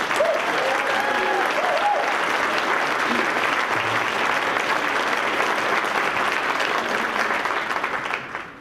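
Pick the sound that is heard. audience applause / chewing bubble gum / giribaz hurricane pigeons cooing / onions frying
audience applause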